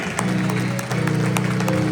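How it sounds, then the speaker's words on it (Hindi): A church congregation claps hands in worship at a Palm Sunday service, steady rhythmic clapping over sustained music, moderately loud and continuous. "ये आप तालियां बजा रहे हैं"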